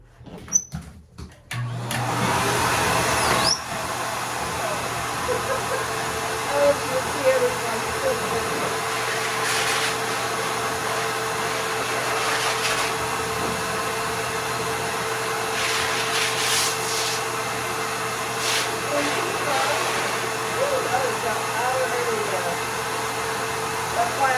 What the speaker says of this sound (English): Buster actually likes the hair dryer